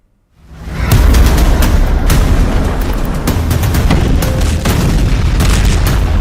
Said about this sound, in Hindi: बम बरस रहे हैं।